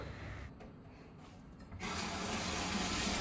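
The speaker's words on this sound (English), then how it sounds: "Strain the noodles and rinse it under running water." Water runs from a kitchen tap over strained Maggi noodles, starting as a soft rubbing noise and turning into a steady, loud rushing flow partway through, with no talking.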